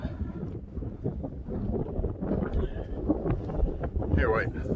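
Strong wind buffets the microphone during a walk in a snowstorm, rumbling gusts that swell and roll throughout, with a person's voice faintly mixed in.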